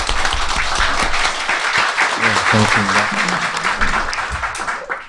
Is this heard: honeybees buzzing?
no